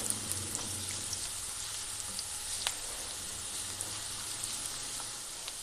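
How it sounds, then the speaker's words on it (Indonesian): Garlic sautés in a hot pan with a steady, close sizzle and faint crackles and pops throughout, nobody speaking. "Nah, kita tumis bawang putihnya guys."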